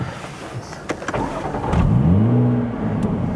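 A supercharged Jaguar F-Type with 51,000 miles revs up close by, a low rumble rising into a swelling engine roar as the exhaust valves open.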